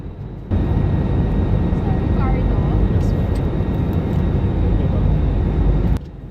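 An airplane roars steadily during takeoff, a loud, continuous engine rumble heard from inside the cabin that fills the whole clip.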